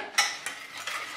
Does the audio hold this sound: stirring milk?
yes